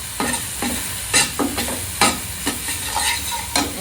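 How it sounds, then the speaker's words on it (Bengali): Masala of coriander and cumin powder with a little salt is fried and stirred in a pan for a home-cooked Bengali dish: a steady sizzle broken by repeated close scraping strokes of the spoon, with no talking. "এবার মশলাটাকে কষিয়ে নেব ভালো করে"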